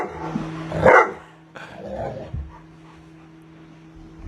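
A dog barks once loudly and close, then gives a few softer yips and whimpers over a steady hum, with no talking.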